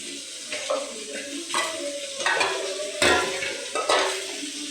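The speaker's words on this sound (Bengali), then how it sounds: "তেলটা গরম হয়ে গেলেই আমি ভাজিগুলো দিয়ে দেবো" Vegetables fry in a pan of hot oil with a steady sizzling hiss, broken by several louder scraping bursts of stirring and a few clinks of utensils close by.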